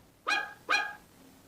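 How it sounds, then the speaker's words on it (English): A puppy bark sound effect from a Little Tikes Story Dream Machine toy: two short, bright yips spaced about half a second apart, clear and alone with no talking. ""Wow, wow, wow," barked the mischievous puppy"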